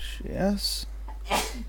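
A single short sneeze comes close to the microphone, followed by a brief spoken word.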